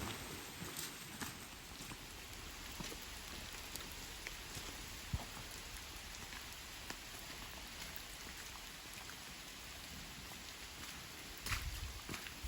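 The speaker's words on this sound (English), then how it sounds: "I don't know if you've noticed on my video, but it's raining." Steady rain falls on a forest trail along the Mountain To Sea Trail, a continuous soft hiss with scattered drip ticks, moderately faint and with no voices.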